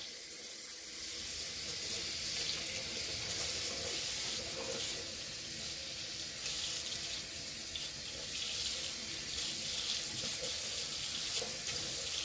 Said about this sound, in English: I'm going to get ready to rinse it out.